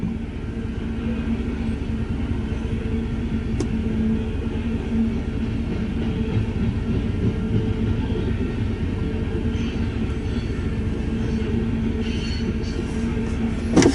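A loaded Union Pacific coal drag rolls eastbound on the Transcon line, pushed by power at the rear, making a steady, continuous rumble of wheels and cars close by with faint squeals near the end.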